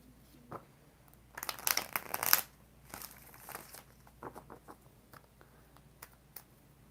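Tarot cards being shuffled by hand, a burst of crisp riffling and papery crackle followed by scattered light taps and flicks at close range.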